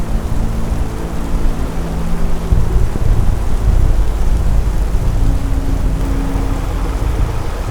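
A heavy storm rages outdoors at a recovery site where a Ford Transit van hangs over an edge, with loud continuous wind roar and rain battering steadily throughout, the low gusty rumble swelling midway.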